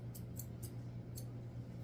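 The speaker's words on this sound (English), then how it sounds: "I'm using my curved scissors backwards to trim up her eyes" Curved scissors snip quickly several times close by, trimming the fur around a Shih Tzu's eyes, soft crisp cuts over a low steady hum.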